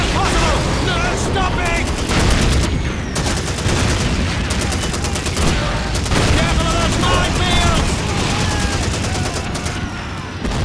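Call of Duty 2 battle with dense rapid gunfire, machine-gun bursts and booming explosions, loud and continuous, with talk mixed in.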